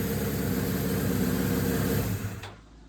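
Warmed-up Suzuki GS550 motorcycle engine idling high, suspected exhaust blockage: a steady, loud, close-up mechanical idle that drops away and fades near the end.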